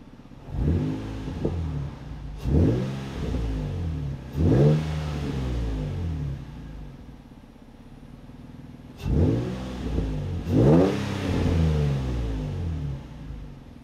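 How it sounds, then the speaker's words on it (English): A Nissan V35 Skyline engine fitted with a big bore throttle body is revved several times, each sharp close blip rising and falling back to a steady idle between them. "So I'm just gonna do a few revs just to check how it goes."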